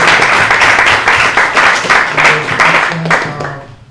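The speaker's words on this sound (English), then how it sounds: "let's clap it up" An audience at a startup pitch night in New York claps together, dense continuous applause that stays loud throughout and fades slightly at the very end, with faint voices beneath.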